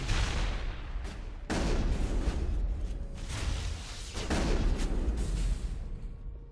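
Explosions and gunfire in the Mass Effect video game: dense, loud booming blasts with rumbling bursts of combat noise throughout, a few sharper impacts standing out.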